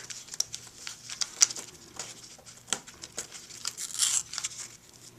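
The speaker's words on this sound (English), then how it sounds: "so we'll slowly tear it back, or peel it back" Cut cardstock being slowly peeled back off a Cricut cutting mat, giving soft crinkling and tearing rustles with scattered sharper ticks, close and quiet, no talking.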